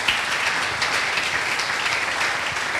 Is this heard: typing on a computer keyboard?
no